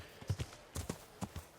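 A horse's hooves clip-clop on the ground in the medieval game Kingdom Come: Deliverance, a quiet, close series of about six paired hoofbeats in an uneven walking rhythm with no talk.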